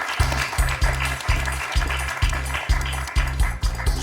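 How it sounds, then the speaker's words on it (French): Studio audience applause on a French TV quiz show, a steady wash of clapping that runs the full length over a thumping rhythmic music beat. "On peut l'applaudir, Catherine, pour ces 3 points."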